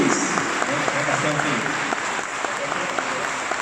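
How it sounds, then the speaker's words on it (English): Steady, dense audience applause at a street photography talk, many hands clapping evenly throughout at moderate distance with voices mixed in. "Ladies and gentlemen, one more round of applause"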